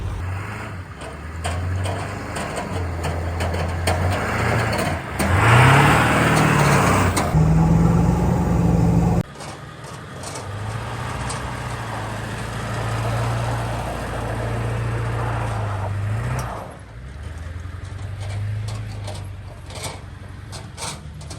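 A vehicle towing a firewood processor rumbles down the road, engine drone rising and falling with a surge of revving and wind rush, then settling into a steady cruise, heard alone.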